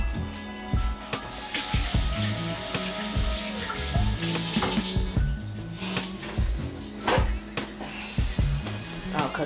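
A kitchen tap runs while hands are rinsed during fish sandwich prep, giving a steady splashing stream with utensil clatter nearby.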